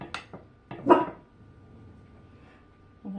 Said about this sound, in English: Hey, oh no, Helga, no bark